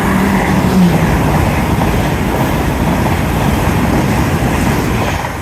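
A train speeds past a road overbridge at Sonning, giving a loud, steady rushing roar with rapid wheel rumble that holds at full strength before easing slightly at the end. No voices.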